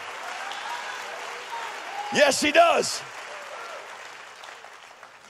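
Church congregation clapping during a sermon on giving, a soft steady wash of applause with a short spoken interjection in the middle.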